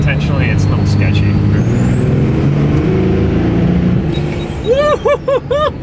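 A 1500HP Cummins diesel truck with a six-speed manual cruises in fifth gear under boost, a loud steady drone and whine, with a turbo-like whistle rising and falling, then ends in brief choppy bursts and chirps.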